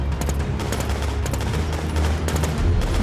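Rapid automatic gunfire in the Infestation shooter game, dense bursts of shots crackling continuously over a low rumble.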